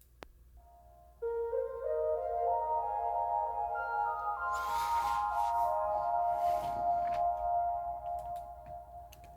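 Synth lead melody treated with delay, chorus and reverb, its sustained notes overlapping and smearing into a washy tail, with a few sharp clicks in the middle, playing alone and fading out at the end.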